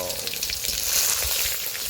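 Whole spices (cardamom, dried red chilli, cumin seeds and bay leaf) hit very hot oil for a soybean and potato curry, giving a dense, loud, continuous sizzle and hiss up close with no talk.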